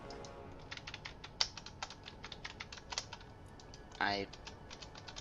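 Computer keyboard typing during a Space Engineers game session, a near, irregular run of crisp key clicks with a brief louder clatter of repeated key presses near the end.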